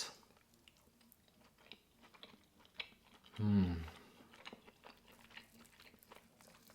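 Someone chews a mouthful of yakisoba noodles wrapped in an omelet, giving soft, close, quiet mastication sounds with a brief louder murmur of a hummed voice in the middle.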